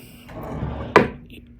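A wooden drawer in a Holiday Inn hotel room slides, then shuts with one sharp knock near the middle, a short close-up sequence with some faint background murmur.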